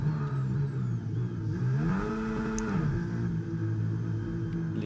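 A race car engine in a racing video game drones steadily, then rises and falls in pitch as it slows toward the pit, a continuous mid-loud whine with no talk over it.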